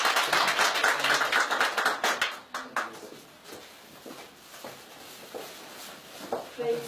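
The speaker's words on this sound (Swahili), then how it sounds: "mpigie makofi." A church congregation claps to welcome Bishop Margaret in Kitale, Kenya: a loud burst of many hands at first that thins into scattered, fading claps over a quieter room.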